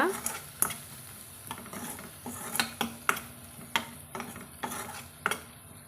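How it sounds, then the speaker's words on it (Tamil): Ivy gourd flower-and-tender-fruit stir-fry being stirred with chili powder in a frying pan, a gentle sizzle underneath steady scraping and spoon taps on the pan at an irregular rhythm, close and moderately loud, with no talking. "தேவையான அளவு சேர்த்துட்டு நல்லா கலந்து விட்டுக்கலாங்க"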